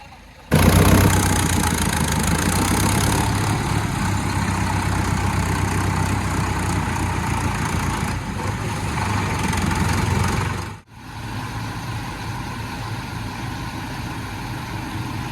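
Several tractor engines run steadily in a flood-hit village, a continuous loud, close diesel rumble with a brief dip near the end before the drone resumes, with no talking.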